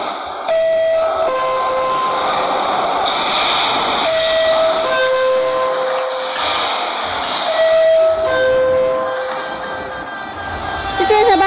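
Subway train in a video game, rumbling and hissing steadily with tonal whistle-like notes and brake squeals, loud and close, with talk over it.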